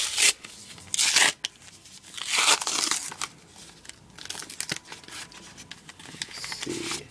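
A heavily taped package holding old Pokemon cards is torn open up close, with bursts of crinkling and ripping tape and paper between quieter rustling pauses; no one talks.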